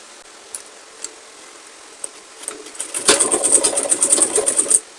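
Sewing machine stitching together the pointed edges of a V-shaped turban cap, starting after a few light ticks and running steadily for under two seconds at close range.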